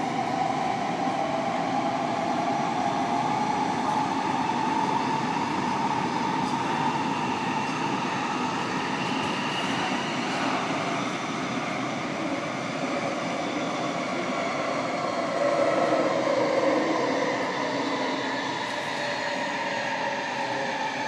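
A train rumbles steadily from inside a carriage, a continuous rolling roar with a faint rising and falling whine and no talking.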